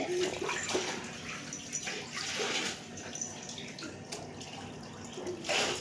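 A baby splashes about in a bath tub, with irregular sloshes and slaps of water, some dripping, and a few louder splashes near the end.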